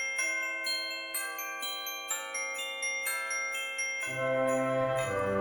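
Small bells hung on a cheese grater Christmas ornament ring in a run of bright, overlapping metallic tinkles, repeated strikes layering into a shimmering cluster, then a fuller jingle near the end, with no talking.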